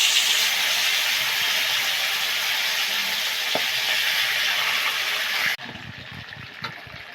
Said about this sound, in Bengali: কড়াইতে তেল গরম হয়ে গেছে, এখন কালো জিরাটা ফোড়ন দিয়ে দেওয়া হলো। এবার মাছগুলো ছাড়ছি।